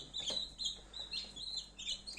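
High, thin peeping of newly hatched Faverolles and Brahma chicks from an incubator, repeated in a steady chorus of overlapping chirps, close by.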